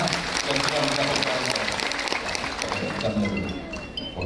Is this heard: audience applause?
yes